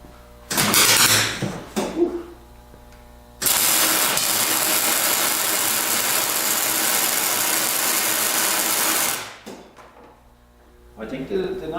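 An exhaust pipe being welded, heard as a loud, steady hissing crackle that holds for several seconds close by, with shorter bursts before and after and brief speech between them.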